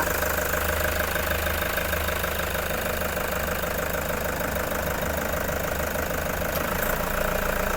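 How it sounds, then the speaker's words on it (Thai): A 2018 Toyota Commuter 3.0 diesel van with automatic gearbox idles steadily up close, a loud continuous rough rattle and knock with no voices over it. "ตอนนี้สตาร์ทเครื่องอยู่นะคะคุณลูกค้าสามารถฟังเสียงเครื่องยนต์ได้เลยค่ะ"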